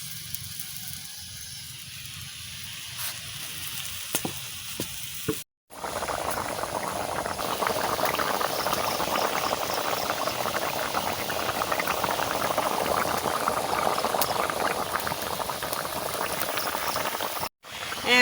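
A pot of curry with ghee boiling vigorously, a dense continuous bubbling and popping heard up close, with two brief dropouts in the sound.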